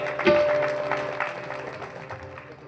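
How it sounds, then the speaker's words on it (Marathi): Audience applause at a temple event, a short burst of clapping from a crowd that swells briefly then fades under ambient noise and a faint voice. "त्यांच्यासाठी एकदा सर्वांनी जोरदार टाळ्या वाजवा"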